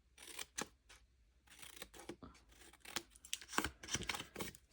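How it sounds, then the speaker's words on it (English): Scissors snipping through card stock while shaping tabs for a handmade gift box lid, a series of short crisp cuts in irregular bursts, close and fairly quiet with no talk. "so that's the cutting that we need for the lid"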